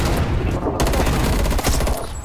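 Dense, loud gunfire from Call of Duty Cold War with an FFAR 1 rifle, a brief saturated barrage of overlapping shots and blasts, with a voice partly buried in the noise.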